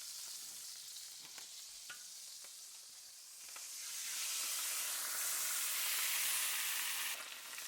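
Steaks sizzle in beef tallow and Kerrygold butter, starting as quiet crackling pops and stirring, then swelling into a loud, sustained hissing fry, with no talking.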